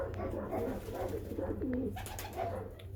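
Balloon (pouter) pigeons coo nearby in soft, rolling, overlapping calls, with faint background noise.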